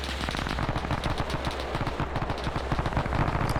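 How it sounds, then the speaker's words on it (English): Rapid, continuous bursts of .30 cal machine gun fire in a video game, loud, dense and rattling for the whole stretch with no pause. "the players on the 30 cals would start firing back, but you cannot tell where that gunfire is coming from"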